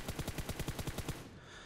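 Rapid automatic gunfire in PUBG Mobile, a burst of about ten evenly spaced shots that stops abruptly, fairly faint in the mix.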